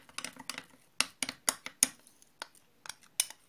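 A spoon clinks and scrapes against a bowl while honey and starch are stirred into a face mask, with sharp irregular metallic taps close up and quiet between strokes, with no voices.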